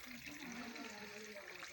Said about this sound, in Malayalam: അത് റിവേഴ്സ് മോഡിലാണ് ഇപ്പം വെള്ളം പൊയ്ക്കൊണ്ടിരിക്കുന്നത്.